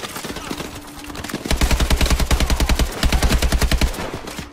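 Rapid bursts of automatic gunfire in the futuristic shooter Call of Duty: Advanced Warfare, loud and close, firing in fast rhythmic volleys with a brief pause between two long strings of shots, no talk over them.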